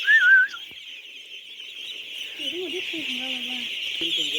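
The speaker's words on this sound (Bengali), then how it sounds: "গোলাম মোস্তফা ভাই হচ্ছে আপনার ১৫০০ পিস আবার হাঁসের বাচ্চা উঠাইছে।" Fifteen-day-old ducklings on a duck farm, a dense continuous chorus of high peeping cheeps heard up close, with someone talking at times over the flock.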